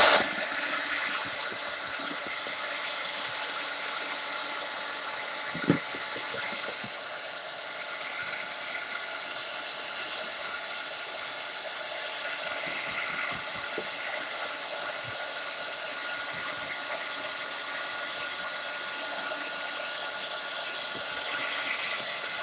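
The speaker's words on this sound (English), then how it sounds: "I'm going to heat gun this side of the page because it is nowhere near dry" A heat gun blows a steady, airy roar while drying a book page, continuous and close for the whole stretch with a couple of faint knocks, no speech.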